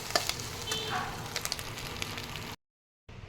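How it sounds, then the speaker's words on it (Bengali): Potato, onion and crumbled egg fry together in a pan for chow mein, giving a loud, steady close sizzle with light scraping stirs. The sound cuts out briefly near the end, then resumes. "তো আলু আর পেঁয়াজটা ভাজা করে এর মধ্যে ডিম দিয়ে দিয়েছি, ডিমটা হালকা মানে একদম গুঁড়িয়ে নিয়েছি"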